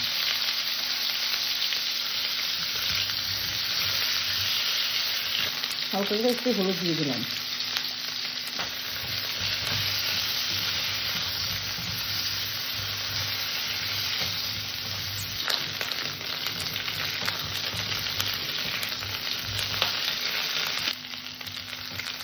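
Cauliflower pieces fry in hot oil in the same pan used for fish, a close, steady sizzle running throughout with brief stirring sounds, while a voice speaks softly over it.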